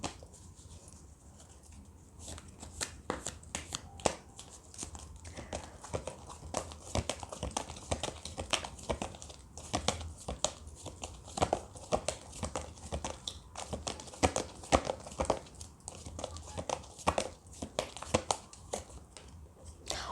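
Tarot cards are shuffled and drawn close up, a quiet run of rapid crisp card flicks and snaps repeating across the whole stretch, with little talk.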